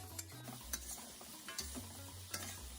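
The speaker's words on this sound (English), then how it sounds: "To this, I'll add the rest of my vegetables and I'll stir fry it for another" Vegetables stir-fried in a pan, with sizzling and several scraping stirs in an uneven rhythm, close and moderately loud, with no talking.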